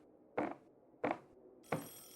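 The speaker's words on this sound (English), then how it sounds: "And now the fucking phone is ringing." A telephone rings faintly in three short, evenly spaced bursts, each a brief jangling ring. There is no talking.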